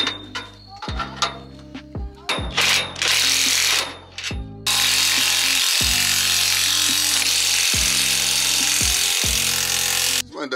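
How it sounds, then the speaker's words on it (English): An impact wrench drives trailer axle nuts in a star pattern, firing loud repeated bursts of hammering whir, first in short stuttering pulses and then in one long sustained run. "So we'll go ahead and tighten it up with a star pattern and we'll be good to go."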